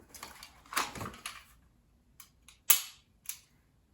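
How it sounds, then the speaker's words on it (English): Handgun dry-fire practice with a draw from a holster: a rustle of handling, then a sharp click, followed by a couple of lighter mechanical clicks, close and alone with no talk. "if I draw from the holster with dry fire practice, it is a good way to keep those things up to snuff"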